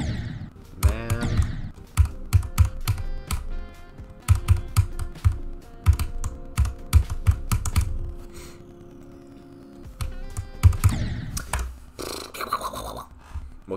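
Rapid typing on a Corsair K70 computer keyboard, with dense bursts of crisp key clacks and brief pauses, close and fairly loud, with no voices.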